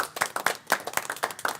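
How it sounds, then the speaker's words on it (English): Board members at a school board meeting give a short round of applause, a small group of distinct, uneven hand claps heard up close for under two seconds. "Board members, give her a round of applause,"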